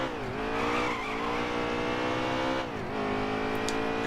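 A NASCAR stock car in the NASCAR Heat 3 racing game drones along at high revs, its engine note steady and loud as the rear slides slightly, with faint tyre squeal; no talking.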